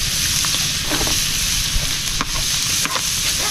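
Carrots and other vegetables being sautéed in a pan give a steady, close sizzle, with scattered clinks and scrapes of stirring and no voices.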